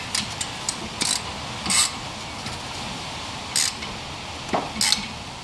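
A hand ratchet clicks in short bursts while tightening a caliper bolt on Ford Freestyle front brakes, quiet intermittent ratcheting and scraping with pauses between strokes.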